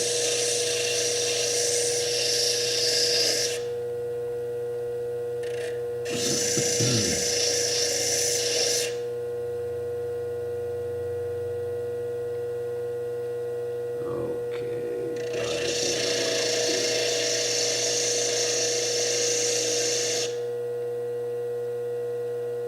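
A bench lathe grinds fire agate in several bursts of high, whining abrasion, with short pauses and a steady motor hum running underneath throughout.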